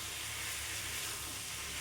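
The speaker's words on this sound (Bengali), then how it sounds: "এবার এই ভেজে রাখা আলুগুলো আমি দিয়ে দেবো" Fried potatoes hitting a hot pan of spiced masala for dhaba-style aloo bhuna give a steady, continuous sizzling hiss with no pauses, fairly loud and close, and no voices.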